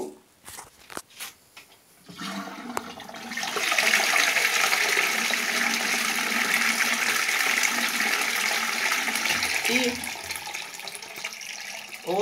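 A toilet is flushed after its bowl has been scrubbed with a brush, a few clicks and knocks first, then a loud rushing surge of water that holds steadily for several seconds before trailing off.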